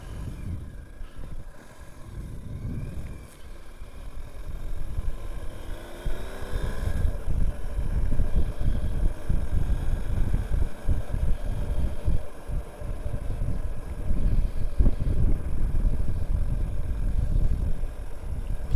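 A BMW GS 1250 motorcycle out on a demo ride gives a steady low engine drone buried under heavy buffeting wind noise, loud and continuous for nearly twenty seconds.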